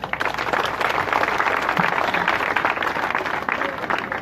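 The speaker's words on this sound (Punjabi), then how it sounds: "ਉਹਨਾਂ ਦੇ ਸਹਿਯੋਗ ਲਈ ਸਾਰਾ ਪਿੰਡ ਤਾੜੀਆਂ ਮਾਰੋ" A village crowd claps steadily and loudly in applause for a winning girls' under-19 school volleyball team, a dense continuous patter with some voices mixed in.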